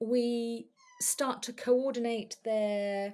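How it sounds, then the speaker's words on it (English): A pet cat meowing nearby, a long drawn-out meow at the start and another at the end, with a person talking in between. "you're going to have to excuse my cat, he's coming"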